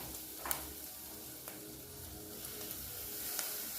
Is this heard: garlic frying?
yes